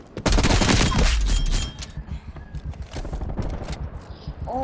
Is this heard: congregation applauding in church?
no